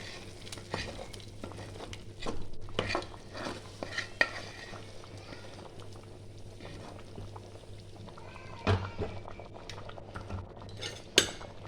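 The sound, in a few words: stirring spices into khichuri in a pot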